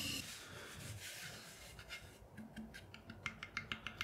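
A trimming tool scrapes and rasps against a clay pot spinning on a pottery wheel in a chuck. The scraping is faint and close, and turns into rhythmic tapping toward the end. No one speaks.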